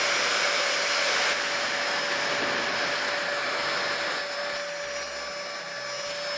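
Steady whooshing blow of a hair styler, an Airwrap-style dupe, running on its lowest setting, a constant airy hiss with a faint whine, with no one speaking.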